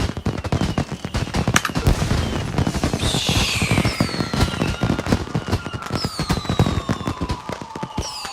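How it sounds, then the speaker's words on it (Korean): Rapid fireworks in the video game Watch Dogs 2, dense crackling bursts and popping reports with whistling streaks rising and falling, loud and continuous throughout. "폭죽 놀이도 이렇게 할 줄 알았냐?"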